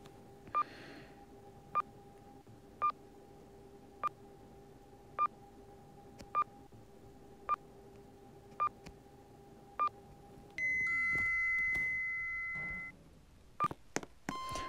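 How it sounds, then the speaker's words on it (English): Chime from a KONE destination dispatch elevator in a video game, a series of short bright beeps repeating roughly every second over a steady tone, then a sustained multi-tone signal and a few more sharp beeps near the end. "That chime sounds like"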